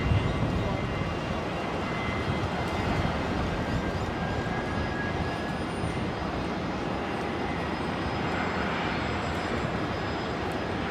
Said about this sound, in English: touching down there, the 7-3 from Sydney